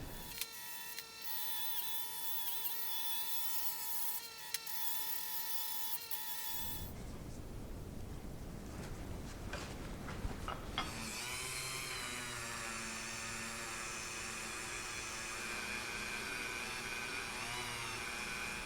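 A buffing wheel with green compound polishes a 24-inch Proto adjustable wrench, giving a steady whirring motor drone that shifts into a rougher grinding hum midway, then settles into a sustained high-pitched whine with no talking.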